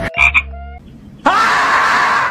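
A frog croaking sound effect plays loudly and close: a few brief tonal croaks first, a short pause, then a sustained rasping croak that runs to the end.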